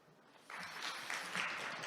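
Audience at a Korean eco-friendly packaging forum applauding after a presentation. Clapping starts softly, then swells into steady, dense applause.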